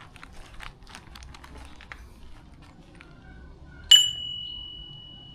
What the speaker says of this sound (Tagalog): Ay, try ko muna pala mag-doorbell.